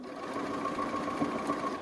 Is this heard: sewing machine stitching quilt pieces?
yes